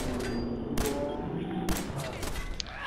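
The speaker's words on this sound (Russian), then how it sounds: "Но стреляют почему-то именно по мне." Gunfire in the video game Fallout 4 comes as rapid, overlapping bursts of sharp shots over a constant battle din, loud and dense for the whole short stretch.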